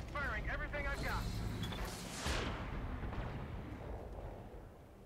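Mech weapons in the Battletech video game fire a loud volley of booming blasts and impacts, with a burst near the start and another around two seconds, trailing into rumbling decay while a voice talks over parts of it.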